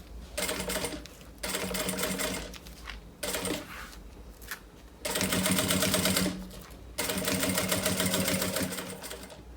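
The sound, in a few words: sewing machine stitching fabric for a backpack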